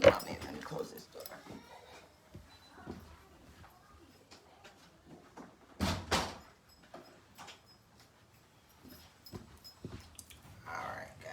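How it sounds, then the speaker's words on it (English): A door is shut indoors, a few soft knocks and one sharper thump in an otherwise quiet room, with scattered quiet talk around it. "Let me close this door."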